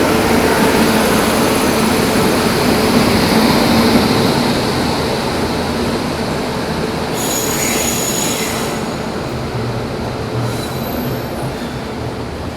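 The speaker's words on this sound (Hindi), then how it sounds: "ये आ गई अपनी कोंकण कन्या एक्सप्रेस मडगांव जंक्शन के प्लेटफॉर्म नंबर 1 पर।" The Konkan Kanya Express pulls into platform 1 at Madgaon Junction. Loud wheel squeal and rumbling carriages run steadily throughout the clip, with a higher screech near the middle and no talk.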